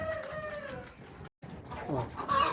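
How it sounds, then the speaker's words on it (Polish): Soft, low clucking from several chickens dust bathing close by, murmuring on and off with a brief silent gap, over scratchy rustling. "A tutaj kury kąpią się, kąpać oczywiście."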